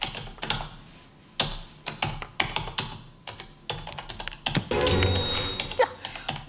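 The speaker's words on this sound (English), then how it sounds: "I'm going to play the sound of someone typing." Someone types on a QWERTY computer keyboard in quick, irregular bursts of close key clicks and clacks, with short pauses, then a denser flurry of keystrokes.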